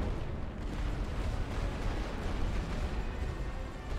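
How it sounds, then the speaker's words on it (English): Distant artillery in The Great War: Western Front as gas bombardment shells land, a steady low rumbling barrage of thuds and booms rolling on without a break and without voices. "we're gonna drop two gas bombardments down here"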